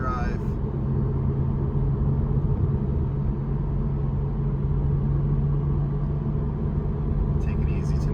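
Porsche Cayman cruising at night, a steady low engine and road rumble with a constant drone running throughout, with a brief brighter noise at the start and end.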